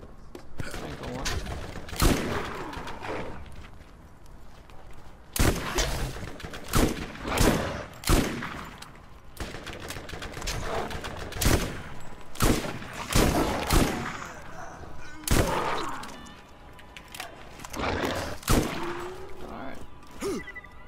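Missile launches and explosive shots fire in the video game Borderlands, landing as a dozen or so loud, sharp bursts at irregular intervals over a busy game backdrop, with a person talking in between.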